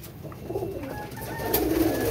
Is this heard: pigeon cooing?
yes